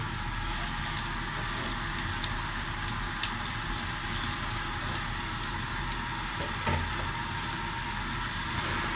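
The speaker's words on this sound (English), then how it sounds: "onions, chopped onions. I'm going to fry it halfway." Chopped onions frying in a pan while lamb-filled wholemeal bread is prepared, making a soft, steady sizzle that stays constant in the background, with a couple of faint clicks and no voices.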